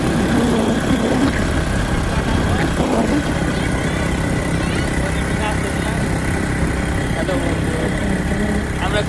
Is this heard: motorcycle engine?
yes